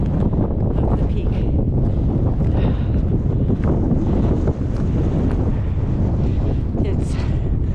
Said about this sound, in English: It's certainly more windy here